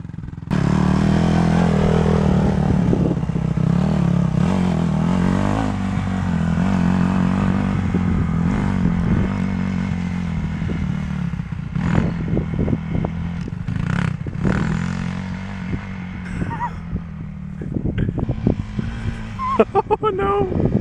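Dirt bike engine droning steadily as it is ridden, with gear shifts and sharp revs near the end, a rider's voice heard over the motor at times.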